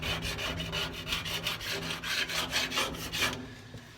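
A razor knife scrapes beehive wax and propolis off a stainless steel sidewall in quick, repeated rasping strokes, close and fairly quiet, with no talk.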